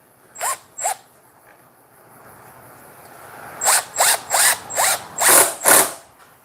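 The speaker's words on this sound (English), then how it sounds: "This screw gun's a little bit loud." A small impact driver sends deck screws into boards in eight loud rattling bursts, two short ones then six in quick succession, close up with no talk.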